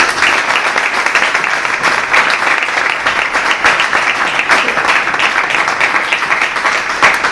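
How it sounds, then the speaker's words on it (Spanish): A crowd applauds steadily, a dense wash of many hands clapping at even loudness throughout, with no voices over it. "pido un aplauso para los que van a intervenir"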